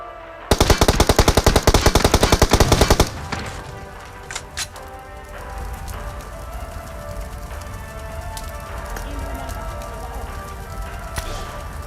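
Loud automatic gunfire in the video game PUBG Mobile, a fast rattling burst of a few seconds followed by quieter scattered shots and ambient noise.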